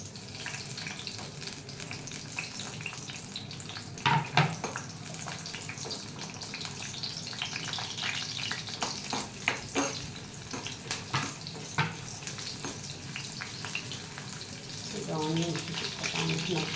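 Onions frying in hot oil for a Telugu ridge gourd chutney, a close sizzle with scraping stirs and a few clatters, under a woman's speech.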